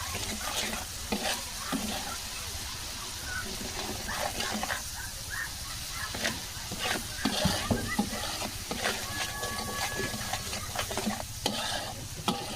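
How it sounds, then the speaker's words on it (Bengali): A spice masala being stir-fried in a pan for a taro-stem dish gives a close, steady sizzle broken by repeated scraping and stirring strokes, with a few louder knocks against the pan; no one speaks. "এই মশলাটাকে সুন্দর করে দুই তিনবার কষাবো"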